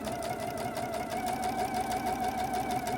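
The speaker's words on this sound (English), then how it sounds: "Back stitching to begin with, and then aiming for that other corner." A sewing machine back stitching fabric, its needle running in a fast, steady mechanical whir that stays loud and close throughout without pause.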